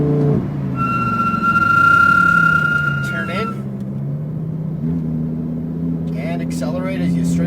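A Lamborghini STO on a race track, its engine droning and rumbling as it accelerates, with a steady low roar and a shift in pitch midway, heard under an instructor's spoken coaching.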